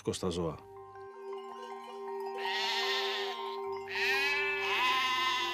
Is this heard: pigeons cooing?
no